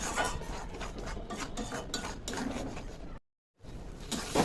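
Spoon scraping and stirring prawn-head and ridge gourd bharta in a kadai, a steady close rasping scrape running throughout with a brief silent gap near the end.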